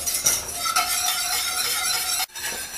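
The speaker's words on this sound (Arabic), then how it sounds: "برجع البشاميل على النار وبستمر بالتحريك ما بوقف لحد ما يغلي الخليط ويصير كثيف" Béchamel sauce stirred steadily in a pot over medium heat on the stove, a continuous close scraping and swishing with a brief pause near the end and no voices.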